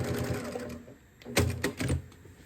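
A sewing machine stitches a narrow seam close to a fabric edge, with rapid mechanical chatter in short bursts separated by a brief pause, close and clear.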